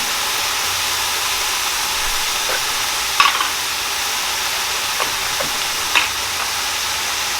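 A pot of Caribbean lobster and crab curry sizzles steadily as garam masala goes in, with a constant frying hiss and a few soft scrapes and taps of stirring.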